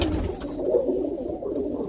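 Roller pigeons cooing in a loft, a low throaty warble rolling on close by with no voices.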